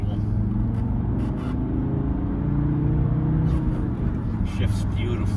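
A 1997 Mercedes-Benz E290 turbodiesel with a 5-speed manual drives along, a steady low engine and road rumble from inside the cabin, with a person talking over it.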